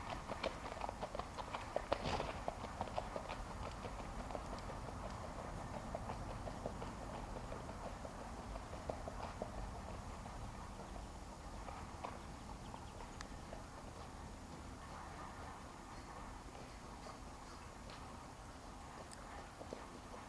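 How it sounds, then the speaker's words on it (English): Hooves of a gelding clip-clop at a steady walking pace along a trail, soft and somewhat distant under a constant outdoor background hiss. "He's just a perfect horse for trail riding."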